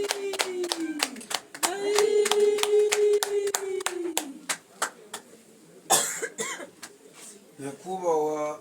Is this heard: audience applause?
yes